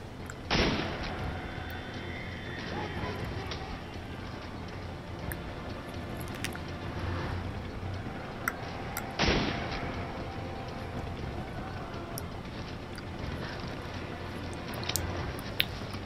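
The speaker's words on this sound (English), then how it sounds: "They have really good aim, those turrets do a ton of damage" Turret gunfire in Resident Evil 5 sounds as a continuous dense rattling roar with two sharp, loud blasts standing out early and midway, under a steady mechanical background and no speech.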